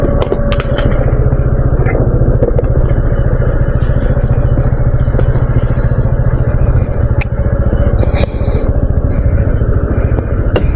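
A motorcycle engine labors loudly up a steep, rough road toward the Cisalada terraces, a constant close drone with rattles and scrapes over it, and no talking.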